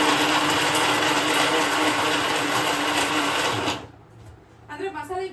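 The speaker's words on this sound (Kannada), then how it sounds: "ಈಗ ಮಸಾಲೆನ ರುಬ್ಕೊಂಡ್ಬಿಡ್ತಾ ಇದ್ದೀನಿ." A mixer grinder runs loud and steady as it grinds fried masala, its dense whirring motor noise filling most of the stretch before cutting off abruptly, followed by a brief quieter tail with faint voices.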